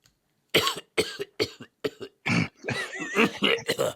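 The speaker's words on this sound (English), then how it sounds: "I got a cough." A series of harsh, close coughs in quick succession, about ten bursts over a few seconds, loud and raspy with brief gaps between them.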